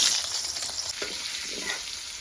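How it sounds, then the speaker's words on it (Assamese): Green papaya pieces frying in hot oil in a pan, with a steady bright sizzle and a few stirring scrapes, close and alone. "এতিয়া আকৌ অমিতাখিনি ভাজিম"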